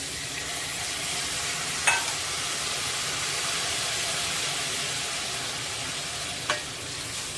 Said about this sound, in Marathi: परतून झाल्यानंतर त्यामध्ये मच्छी घालूया